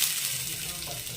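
Potato, papaya, drumstick and green banana frying in hot oil in a pan for shukto, a steady hissing sizzle with light stirring, close and continuous for about a second.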